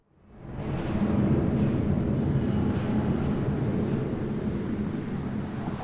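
An aircraft passes in the video game Deus Ex: Mankind Divided, its deep rumbling roar rising quickly from silence and then holding as a broad, steady wash that eases slightly toward the end.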